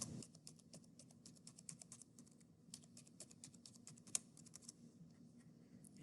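Fingers type a login password on a computer keyboard in a quick, irregular run of soft, close keystrokes lasting several seconds, with no talking.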